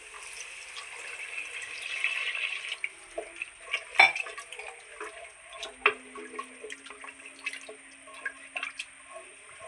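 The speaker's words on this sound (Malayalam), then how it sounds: "മസാലയ്ക്ക് ആവശ്യമായ വെള്ളം ഒഴിച്ച് കൊടുക്കാം" Water is poured into spiced masala in a pan for a Kerala-style soya chunks curry, a brief splashing pour followed by scattered drips and clinks of cookware.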